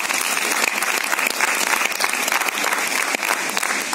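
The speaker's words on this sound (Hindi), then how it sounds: "एक बार आप अपने लिए खुद एक बार जोरदार ताली बजाएं" An audience at a Moringo Organics corporate event gives loud, sustained applause, a dense, steady roar of many hands clapping close by, with no talking over it.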